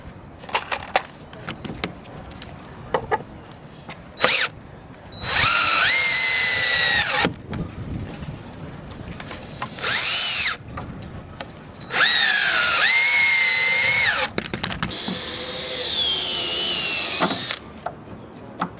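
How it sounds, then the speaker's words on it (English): A power drill drives 3-inch deck screws into the wood frame of a raft, in several loud whining bursts that climb in pitch as each screw sinks. Quieter handling knocks and clatter fill the gaps between bursts. "So we're going to use 3-inch deck screws, and we're going to put 2 screws in the end on each of these pieces as we go down."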